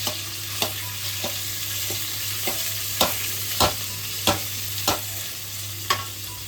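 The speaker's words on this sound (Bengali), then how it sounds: "তাতে আমরা সেদ্ধ করে রাখা আলুটাকে একটু ম্যাশ করে ভেজে নেব।" Mashed boiled potato fries and gets stirred in leftover hilsa fish frying oil, a steady close sizzle with several sharp spatula scrapes and taps against the pan.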